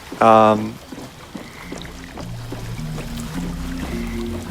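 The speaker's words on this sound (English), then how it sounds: "We jumped out of the water there." A short, loud splash comes at the start as a character leaps out of the water in the ABZU underwater game, followed by quieter water movement under a low, sustained musical tone.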